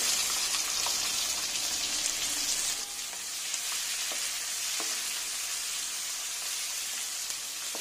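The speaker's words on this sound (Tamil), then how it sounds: "வெங்காயம் நல்லா வதங்கிட்டு இருக்குது" Finely chopped onions sizzle steadily in hot oil with cumin seeds, a close, continuous frying hiss with a few soft stirring clicks, the sound thinning slightly partway through, for a jackfruit curry.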